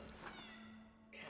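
A cat in the video game Cronos: The New Dawn gives a faint, brief meow, quiet and somewhat distant over a steady low hum.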